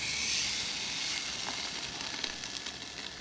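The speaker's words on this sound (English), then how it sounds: "I'm gonna sear this skin here for about 2 minutes." Coho salmon skin searing in avocado oil on an induction cooktop, a close, steady hissing sizzle with a few faint pops and crackles.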